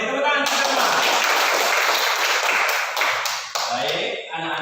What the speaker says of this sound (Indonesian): Oke, tepuk tangan sama-sama